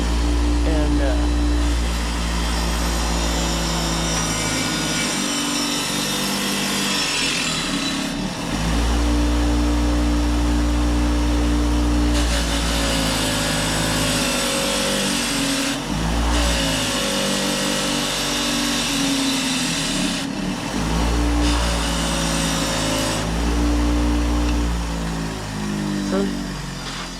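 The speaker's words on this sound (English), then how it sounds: "I started on this casing, and all I'm doing is I'm just taking this wire wheel here" Wire wheel grinding and cleaning the casing of a 1920s forge blower, a loud continuous motorized whir with abrasive hiss that cuts out briefly and restarts several times over the length.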